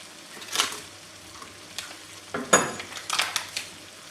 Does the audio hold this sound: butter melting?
yes